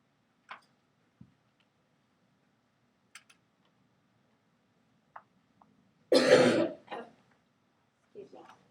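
A teacher coughs in a classroom while reviewing congruent triangles, a single loud burst near the microphone followed by a smaller cough, between scattered faint ticks and taps in a quiet room.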